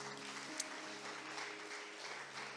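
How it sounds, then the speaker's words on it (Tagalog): Church congregation applauding steadily during a Sunday worship service, a soft continuous wash of clapping heard somewhat distant, with a faint sustained tone beneath and no talking. "Sige po, malakas na palakpak."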